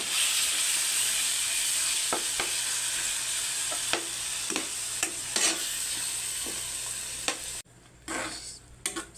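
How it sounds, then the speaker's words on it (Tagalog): Corned beef sautés in a hot pan with a steady sizzling hiss, broken by repeated sharp scrapes and clacks of a utensil stirring the meat, close up and without talk. "Sinusote na natin yung corned beef."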